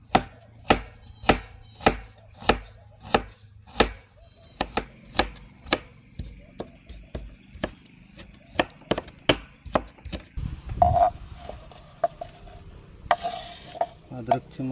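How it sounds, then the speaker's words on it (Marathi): Ginger chopped finely with a knife on a board, sharp rhythmic thuds at a brisk, even pace that loosen toward the end, close and clear, with a faint sizzle behind. "अद्रकचे मस्त बारीक तुकडे केलेत आपण."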